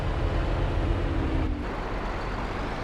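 Tractor engine in Farming Simulator 22 during round baling, a steady loud low diesel drone with a brief whining tone, the pitch easing slightly partway through, with no talking.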